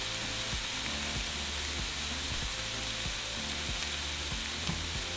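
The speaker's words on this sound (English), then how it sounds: "after the minute, we're going to add our shrimp. We're going to season everything with our seasoning." Shrimp sizzling steadily in a hot pan with seasoning while filling for shrimp tacos cooks, a dense continuous frying hiss with faint scrapes of stirring and no talking.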